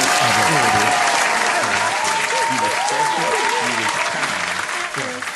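Loud applause during a podcast recording, dense clapping with scattered voices talking over it throughout, easing off slightly at the end.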